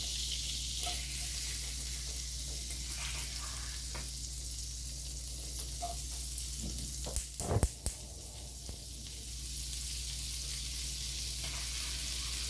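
Onion and garlic fry in a pan for a Chinese dish, a steady moderate sizzle with a low background hum and a brief cluster of clatter and stirring knocks midway, no voices.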